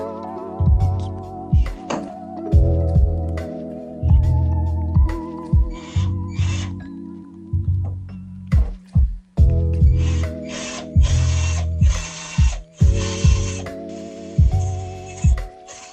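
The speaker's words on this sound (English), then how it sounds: "Just drill it straight through the head." A power drill bores out rivets from aircraft structure sheet metal. It whines in repeated bursts, each spinning up and then biting through a rivet head with a sharp grinding pitch, with short pauses between the holes.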